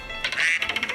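A cartoon duck, the kind said to lay golden eggs, quacks in a quick run of raspy, nasal calls, loud and close with no voices over it.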